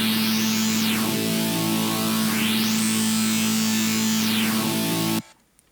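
Distorted synthesizer in FL Studio with its warp automated by a clip, a loud buzzing low drone under a high tone that sweeps up and down in slow arcs, cutting off abruptly near the end.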